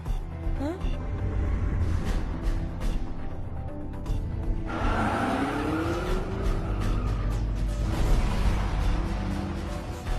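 A cartoon car is driven fast, engine roaring continuously while the tires squeal in a long rising skid midway, with voices talking over the loud driving noise.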